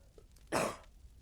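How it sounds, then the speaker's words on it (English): One short, abrupt cough, close to the listener, in an otherwise quiet room. "Coughing, very charming."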